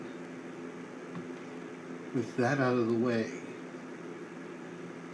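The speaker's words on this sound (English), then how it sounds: "Please excuse the noise from the fan that's behind the ring light" A steady electric fan hum runs throughout as a low background whir, with a brief stretch of speech over it partway through.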